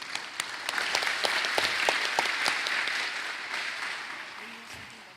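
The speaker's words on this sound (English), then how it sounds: "Can we just give them a round of applause quickly?" Applause from an audience thanking panelists at an information session, a crowd clapping steadily with distinct sharp claps early on, slowly tapering off as a faint voice enters near the end.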